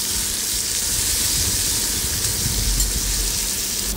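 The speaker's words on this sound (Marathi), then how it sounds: "आता याच्यामध्ये टोमॅटो घालूया। टोमॅटो पण परतून घेऊया।" Tomatoes sautéing with onion in a pan, a steady close sizzle and hiss of frying that continues evenly throughout, with no talking.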